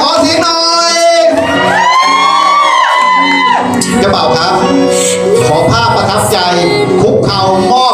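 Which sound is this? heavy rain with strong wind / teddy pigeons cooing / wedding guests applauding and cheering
wedding guests applauding and cheering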